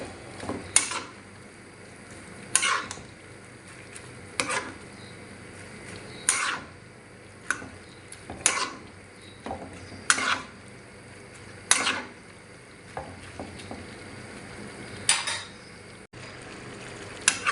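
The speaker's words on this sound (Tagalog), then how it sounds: "Lutuin lang po natin sandali yung repolyo mga boss tip." Cabbage and chicken being stir-fried in a pan, with a utensil scraping and clanking against the metal in repeated strokes about every two seconds over a soft background sizzle, close and moderately loud, no talking.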